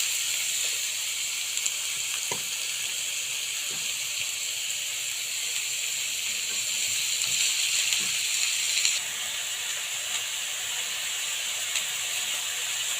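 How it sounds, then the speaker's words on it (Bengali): Sliced cucumber sizzling in a small amount of hot soybean oil, giving a steady, even hiss and crackle that continues throughout. A few soft clicks sit under it, with no talking. "দিয়ে দেবো কেটে রাখা শসা।"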